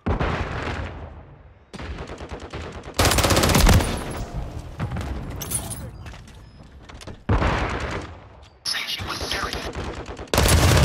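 Gunfire in a military shooter video game comes in loud, abrupt bursts of rapid automatic shots with sharp cutoffs, separated by short quieter gaps, plus a few heavier booms.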